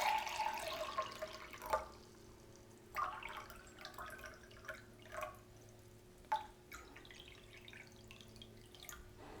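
Water trickles and drips into a cup set on a kitchen scale, with a few quiet pours and splashes at intervals in an otherwise still room.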